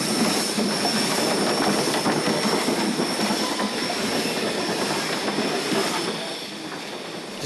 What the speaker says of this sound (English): a trip on the magnificent Snowdon mountain railway